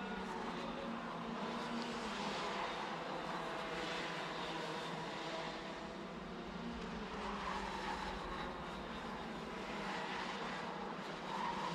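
Karts race around the circuit in the CIK-FIA Academy Trophy final, a continuous buzzing engine drone from several machines layered together, steady and moderately distant with no talk over it.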